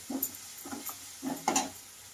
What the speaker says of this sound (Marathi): तिला सुद्धा अशी कांद्यामध्ये मिक्स करायची.